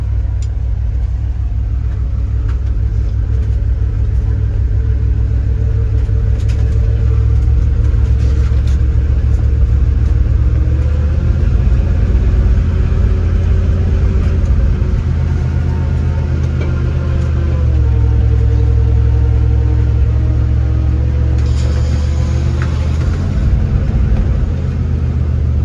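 A 1970 Ford Maverick drives slowly through snow, its engine making a steady loud low rumble that stays constant throughout with only slight shifts in pitch, recorded close and with no voices.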